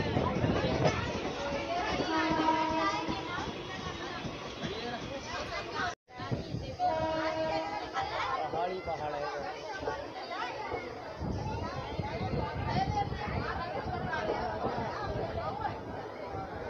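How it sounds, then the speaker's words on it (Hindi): A crowd mills on platform 2 of Haridwar railway station, with a steady babble of voices and children's chatter. A nearby person talks over the hubbub. "ये है हरिद्वार रेलवे स्टेशन का प्लेटफार्म नंबर 2"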